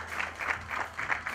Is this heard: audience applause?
yes